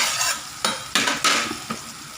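Sambal hitam ingredients are stir-fried in a hot pan, a steady sizzle broken by several loud scraping stirs of a utensil against the metal.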